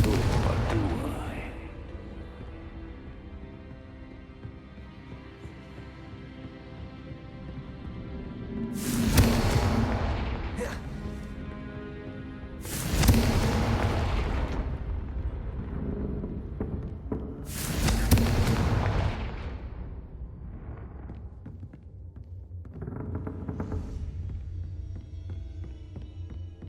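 Three loud explosive bursts of the Confringo spell in Hogwarts Legacy, one every few seconds, each a sharp blast that rolls off into a rumble, with a softer fourth burst near the end over a steady low ambient hum and no talking.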